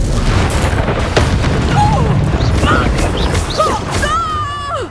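Confringo blasting-spell explosions boom during a Hogwarts Legacy battle, heavy and close, mixed with whooshing spell effects and shouting voices.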